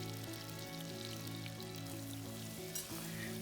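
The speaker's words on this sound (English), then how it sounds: "Quickly stir fry." Lamb slices stir frying over high heat in a hot pan, a steady loud sizzle with crackling spatters and occasional scrape of stirring, close and continuous throughout.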